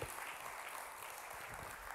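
A church congregation applauding during a sermon, a faint, distant wash of clapping that holds evenly for a couple of seconds without any voice on top.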